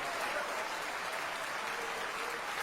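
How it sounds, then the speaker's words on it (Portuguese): A church congregation claps together in sustained, dense applause, steady and fairly loud throughout with no break. "Vamos aplaudir mais ao nome de Jesus."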